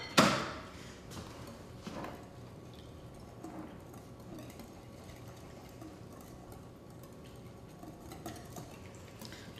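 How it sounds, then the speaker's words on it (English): A dill mixture is whisked in a bowl: after one sharp clink, a fast, continuous metallic scraping and clatter runs close by at an even pace, with no talking. "Just whisk it together till everything is combined."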